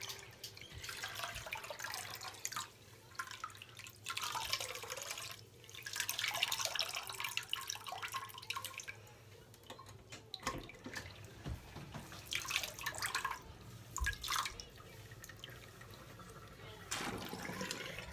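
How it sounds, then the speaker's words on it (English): Cool tap water running from a faucet over synthetic wig strands at a sink, a splashing flow that rises and falls in several bursts, with someone talking quietly between them. "I turn the water on, cool, and just let the water run over the strands"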